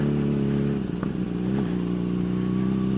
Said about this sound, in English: Ride my motorcycle out here.